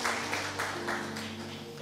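A congregation at a church service applauds in a rhythmic, pulsing patter of hands over a sustained musical tone. The clapping is moderately loud and continues throughout.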